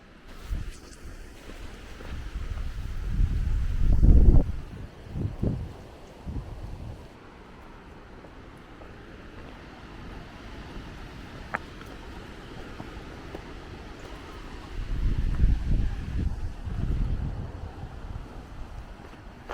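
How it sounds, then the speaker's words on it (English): Wind rushes through trees on a mountain hike in Picos de Europa National Park, swelling in two strong gusts at the start and end with a quieter, steady whoosh between them and no talk. "You can hear it in the trees. That wind feels so good though."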